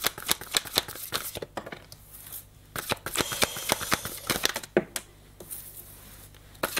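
Tarot cards being dealt out one by one into a spread, with sharp papery slaps and slides arriving in an irregular rhythm, close and fairly quiet, broken by brief pauses between placements.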